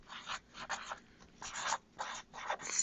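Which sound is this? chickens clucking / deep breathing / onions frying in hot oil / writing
writing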